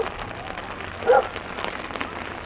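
Rain patters steadily on an umbrella outdoors at a track, a dense, close, even hiss of drops with one slightly louder spatter partway through.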